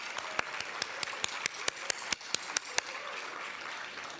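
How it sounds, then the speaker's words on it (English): An audience at a spiritual living convention business meeting gives a speaker a round of applause, with a soft crowd of clapping under a few loud, evenly spaced claps from someone close by, trailing off toward the end. "Got to give Kathleen another round of applause."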